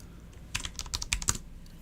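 Text typed on a computer keyboard while editing in screen-capture software, a short close burst of clicky keystrokes with quiet before and after.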